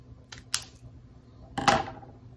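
Scissors snip through cardstock in two crisp, close cuts about a second apart, with quiet room tone between them.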